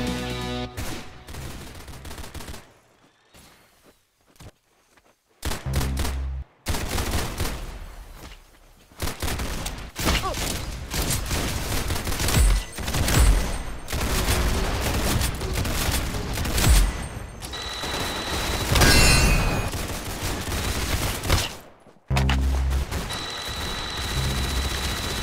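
Bursts of gunfire in the Roblox Arsenal shooting game, rapid repeated shots in loud clusters separated by short quiet gaps.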